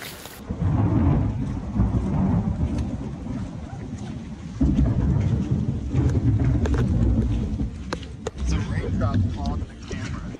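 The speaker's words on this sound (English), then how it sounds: "We're walking back to town in the rain." Heavy rain pouring in Ecuador's Mindo rainforest, a loud, dense, steady roar with low rumbling, as if heard while walking outdoors, continuing throughout.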